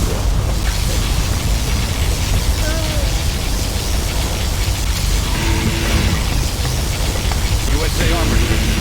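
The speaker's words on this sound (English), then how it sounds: "Particle cannon activated" A particle cannon blast from the USA faction in Command & Conquer: Generals Zero Hour, heard as a loud, sustained roaring rumble of broadband noise that runs the whole length, with faint tonal game sounds mixed in.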